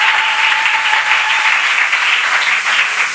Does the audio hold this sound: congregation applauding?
yes